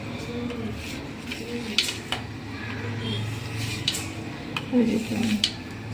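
Steamed dhokli being scored into pieces in a pan for Kathiawadi dhokli shaak, with light metal scrapes and taps of a utensil against the pan under a steady background hum while someone talks.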